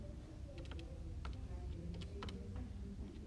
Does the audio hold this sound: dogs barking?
no